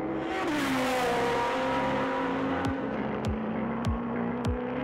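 Porsche GT3 race cars lapping Kyalami circuit: a loud engine drones steadily with a slowly falling pitch, then several sharp whooshing passes or gear shifts punctuate the noise at regular intervals.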